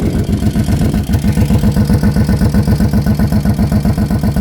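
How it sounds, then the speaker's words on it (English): A small ATV engine idles steadily up close, smoking, with a fast, even valve ticking pulse running through its loud rumble. "you can hear the engine's a little loud, almost like the valves. Hear that ticking?"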